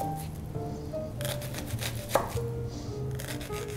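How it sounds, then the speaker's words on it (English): A knife slices through an onion on a cutting board for a salad, a steady run of crisp, close chops with a sharper knock near the middle, no talking over it. "we're gonna cut our onion the way we cut our onions"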